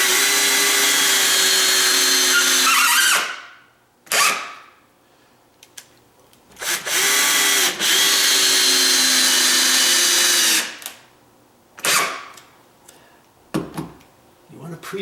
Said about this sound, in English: You pre-drill your holes.